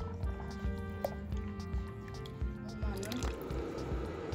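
Ayran poured into rendered goat belly fat mixed with lemon juice, a steady wet drip and slosh of liquid lasting several seconds, close by, with a voice talking over it.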